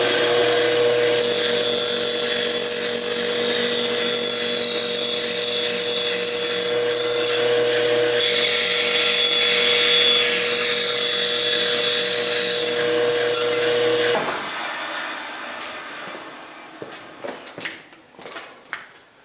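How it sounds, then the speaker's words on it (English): Bandsaw cutting grooves in plywood for clamp storage, running as a loud, steady whine for about fourteen seconds before stopping and leaving quieter shop clatter. "now I'm just using the bandsaw to cut out the rest of the grooves"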